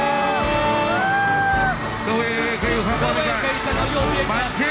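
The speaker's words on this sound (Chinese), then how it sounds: "烟火已经呈现出来了" A National Day fireworks show booms and whistles over a huge crowd, with rising and falling whistling tones and dull bangs layered over loud cheering and shouting throughout.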